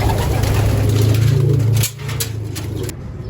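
Pigeons coo steadily in a breeder's loft, a close, loud, continuous low warbling that fills the space, with a few brief higher chirps and rustles near the end.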